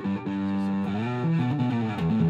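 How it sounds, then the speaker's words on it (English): Billy Sheehan's bass played through a distortion effect turned up high, giving a thin, buzzy, high-edged tone over a short sustained melodic line, loud and alone. "It's real high and thin distortion when you get this turned up."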